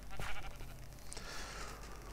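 A sheep in the video game Minecraft gives a short, fairly quiet bleat over a low steady background hum, with a faint electronic ping shortly after.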